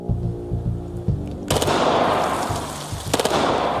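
A Glock 17 pistol converted to fully automatic fire with an auto sear switch. After a low hum and thumps, it unleashes a sudden loud burst of rapid shots that rattles into echo, then a second short burst follows.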